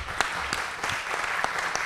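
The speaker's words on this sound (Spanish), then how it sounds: "Dele un aplauso al Señor" A church congregation gives applause to the Lord, a short burst of dense clapping with a few sharper claps standing out.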